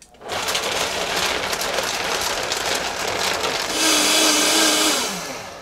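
A blender grinding almonds into milk roars steadily with a dense grinding whir, its pitch rising slightly near the end, loud and continuous with no talking.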